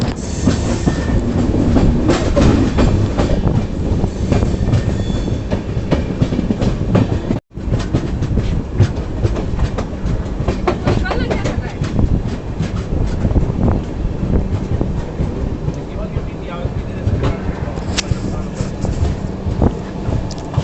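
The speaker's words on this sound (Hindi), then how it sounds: "दोस्तों को ऊपर देखो स्टेशन है और नीचे से ट्रेन जा रही है।" The Yoga Express passes beneath Gandhinagar Capital station, a loud, continuous rumble of rolling railcars with clattering wheels and wind buffeting the microphone, close and unbroken for the whole stretch.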